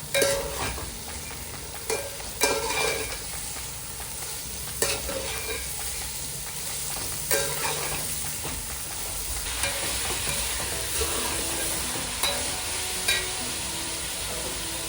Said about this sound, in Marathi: आता त्यात कोबी टाकून परतून घेऊया।